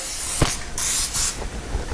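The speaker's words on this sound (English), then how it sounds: "It's going to take a little bit of vegetable oil cooking spray." Vegetable oil cooking spray hisses onto a raw chicken in short bursts, three or four close, loud sprays separated by brief pauses, with no talking.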